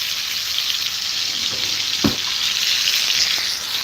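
Steak sizzles in a hot pan at home, a loud, steady hiss of frying fat with a brief scrape or stir in the middle.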